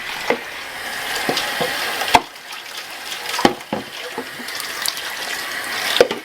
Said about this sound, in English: And then I rinse my bucket out.